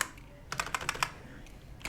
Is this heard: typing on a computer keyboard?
yes